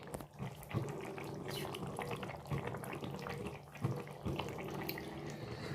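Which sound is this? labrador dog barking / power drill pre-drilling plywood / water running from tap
water running from tap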